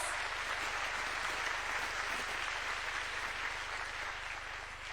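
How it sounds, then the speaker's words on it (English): An audience at the Africa Forward Summit in Kenya applauds in a continuous, even wash of clapping heard from a distance, fairly quiet and steady throughout. "Please give yourselves a round of applause."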